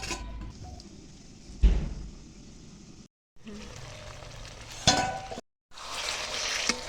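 Okra curry cooking in spiced water in a pan, with a soft continuous bubbling sizzle, occasional louder clanks of stirring, and two brief silent cuts.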